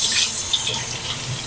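Tap water runs in a steady hiss at a sink while a bruised mango is being washed, close and continuous.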